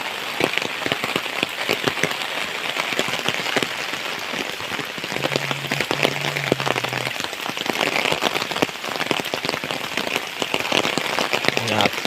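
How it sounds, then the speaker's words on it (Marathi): Heavy monsoon rain pours down in the Konkan, a dense continuous patter on surfaces throughout, with someone talking faintly underneath. "दाखवतो पाऊस किती लागतोय आणि पाणी किती झालं"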